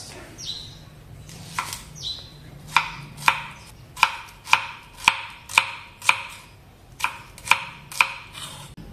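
A knife slices through onion on a cutting board for a tinola chicken soup, giving a steady run of sharp, close chopping taps, about a dozen evenly spaced strokes with brief pauses, alone without talk.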